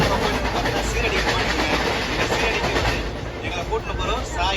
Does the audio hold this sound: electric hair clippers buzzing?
no